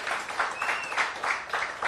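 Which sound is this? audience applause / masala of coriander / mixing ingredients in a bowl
audience applause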